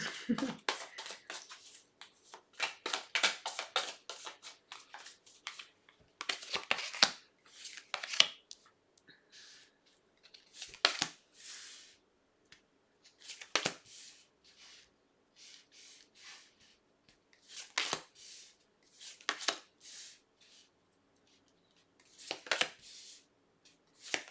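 Slippery deck of tarot cards shuffled by hand, close and fairly quiet, in repeated short riffling bursts separated by brief pauses.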